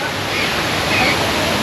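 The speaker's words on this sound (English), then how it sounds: "I was wondering when we were going to meet the big waterfall." Big waterfall in the wetlands of Singapore Bird Paradise, a loud steady rushing roar of falling water filling the whole moment without pause.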